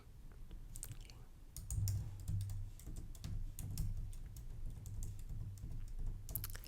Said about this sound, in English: Just kind of typing a few things down.